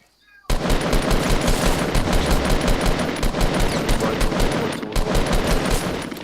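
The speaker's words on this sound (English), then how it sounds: "Oh, I'm getting shot at as well now." Sustained rapid automatic gunfire in the video game Fortnite, loud and close, running continuously for about six seconds after a brief quiet start.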